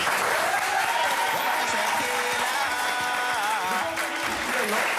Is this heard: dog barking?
no